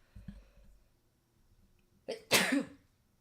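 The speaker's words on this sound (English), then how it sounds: "Hold on, I have to sneeze." After a faint stir, a single sharp sneeze bursts out close by: a quick inhaled catch followed by an explosive burst, then quiet.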